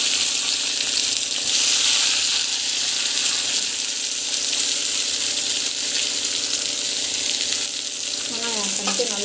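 Onions sautéing in hot oil with mustard seeds and cumin, a loud, steady, close sizzle that holds throughout with only slight shifts as the pan is stirred.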